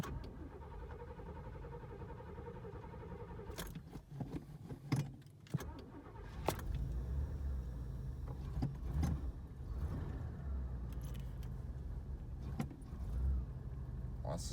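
A 1986 Oldsmobile Cutlass Supreme on a weak battery: a few clicks and brief cranking, then the engine catches and settles into a loud, steady, close idle with a low rumble.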